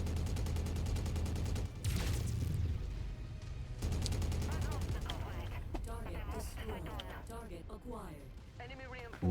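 Missile and weapon fire in the mech combat game Mechwarrior 5: Mercenaries, a dense run of booming, crackling blasts that stays loud throughout, with a voice talking over the gunfire.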